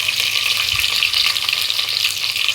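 Carrots and green chilies fry in a hot pan, a loud steady sizzle running throughout, with faint stirring scrapes underneath.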